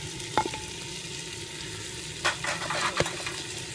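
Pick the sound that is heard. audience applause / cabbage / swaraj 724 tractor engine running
cabbage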